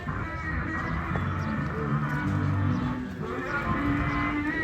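Cattle at a busy Hazratpur livestock market moo in drawn-out, low calls, several overlapping at mid distance over a steady crowd murmur.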